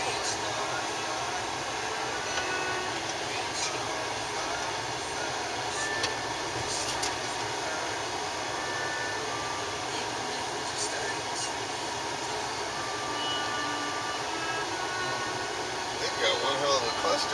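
Strong wind roars steadily outside Amarillo during a Texas dust storm, a loud, broad rushing noise that never lets up, with voices talking faintly under it.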